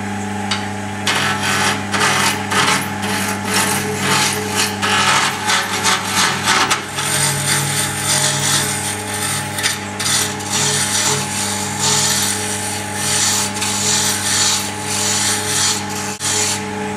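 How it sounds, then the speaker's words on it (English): Timber spinning on a wood lathe while a pen blank on a mandrel is turned, giving a steady motor hum with busy scraping and rasping of the tool against the wood, close and continuous throughout. "So at this point I'll stop the lathe and just inspect the timber."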